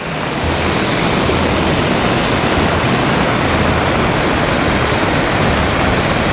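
Rushing floodwater pours in a torrent on Mount Wolvi. It makes a loud, constant roar of churning water, close by and unbroken throughout.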